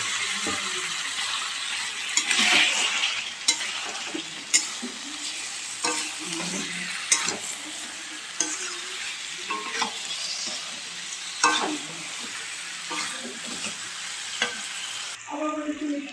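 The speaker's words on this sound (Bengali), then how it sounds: "এখন আমরা ভেজে রাখা মাংসগুলোকে এর ভিতরে দিয়ে দেবো" Pre-fried chicken pieces stirred into potatoes and spices in a hot pan, with a steady sizzling fry broken by repeated scraping and clacking spoon strokes across the whole stretch, close and fairly loud, no talking.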